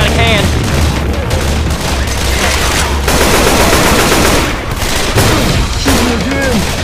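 Rapid automatic gunfire in the zombie shooter Left 4 Dead 2, loud and continuous bursts of shots with booms, while a character's voice is heard over the din.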